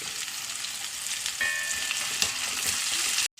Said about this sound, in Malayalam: അപ്പം എണ്ണ കാഞ്ഞു സവോള ഇടണം ഇഞ്ചി വെളുത്തുള്ളി